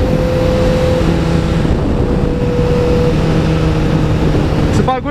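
A 2018 Honda CBR 1000RR Fireblade motorcycle roars in third gear, its engine a loud, sustained drone with a steady pitch that holds throughout before a brief shift near the end.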